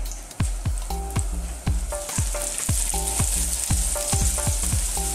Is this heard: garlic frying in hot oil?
yes